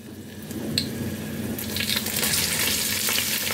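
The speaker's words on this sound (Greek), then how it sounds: "Σε πρώτη φάση θα ρίξω τα κρεμμυδάκια τα φρέσκα." Fresh spring onions go into hot oil for a cuttlefish stifado, and a quiet start swells into a steady, close sizzle that holds for the last couple of seconds.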